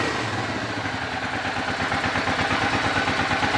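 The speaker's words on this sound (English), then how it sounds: "I'm just letting the bike warm up here" An old Suzuki Boulevard motorcycle idles while warming up, a steady close rhythmic engine thump with mechanical clatter, heard alone without talk.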